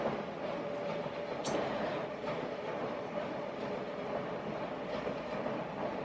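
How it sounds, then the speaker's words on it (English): A long train rolls past at a distance, a steady broadband rumble with a brief high wheel squeal early on, sustained and fairly loud for the whole stretch. "there goes the train"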